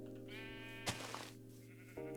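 Sheep in the video game Minecraft bleat in a long wavering call over a steady game music drone, cut by a sharp click partway through, then a short fresh bleat at the end.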